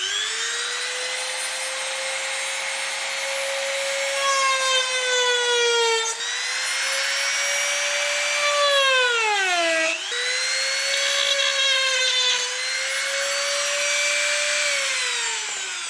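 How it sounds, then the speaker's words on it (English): A Dremel rotary tool fitted with rough sandpaper sands a plastic Mercedes-Benz C450 bumper, giving a loud, continuous high whine whose pitch sags and recovers as the tool bears down, with a deep dip near the middle. "I've got some sandpaper on my Dremel tool. I'm not quite sure as to what grade it is, but it's quite rough, so I think it should do well with this plastic"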